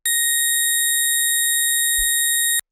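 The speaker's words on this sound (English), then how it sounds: "this is also some sine waves FMing each other, where this is up 3 octaves again on the chorus" Pure synth sine tones frequency-modulating one another with a hint of detune, forming a steady stack of bright sustained pitches that holds evenly for over two seconds before stopping abruptly, with a brief low thump near the end.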